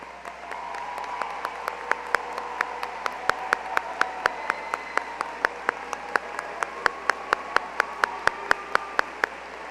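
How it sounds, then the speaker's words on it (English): Audience applause at a 2024 high school graduation ceremony honoring graduates planning to serve in the armed forces, a steady wash of clapping with sharp, regular individual claps standing out near the microphone throughout. "would you please stand so we can recognize you with a round of applause?"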